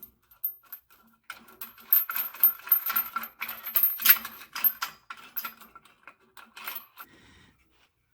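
A 1.5 inch bolt threaded through to position a rock slider plate on a 3rd gen Toyota Tacoma, giving close, irregular metallic clicks, clinks and scraping taps in short bursts with brief quiet gaps.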